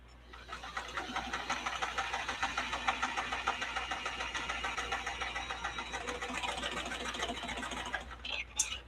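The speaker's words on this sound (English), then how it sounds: "let's sew these two together" A vintage Kenmore sewing machine stitches fabric at a steady fast rhythm, its motor humming under a rapid needle chatter that runs continuously before stopping with a few clunks at the end; close and moderately loud, no speech.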